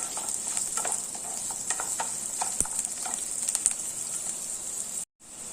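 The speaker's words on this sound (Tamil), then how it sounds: "வெங்காயம் ஓரளவு வதங்கிடுச்சு பாருங்க" Steady frying sizzle from a pan of onions and green chili with occasional stirring scrapes and clicks, close and continuous, then a brief cut to silence near the end.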